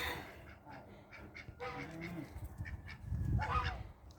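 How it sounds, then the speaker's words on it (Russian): Domestic geese honk in a cold farmyard, a cluster of nasal calls building louder toward the end, with a voice faintly heard among them. "Это мои гуси."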